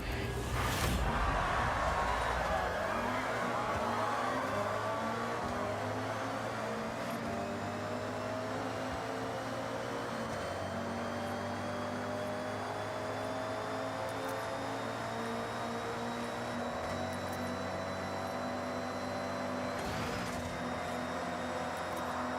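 Koenigsegg hypercar engine racing in Forza Horizon 6, a loud continuous roar that climbs in pitch through repeated gear pulls, each run ending in a brief dip before rising again, with a sharp whine layered above and no talk.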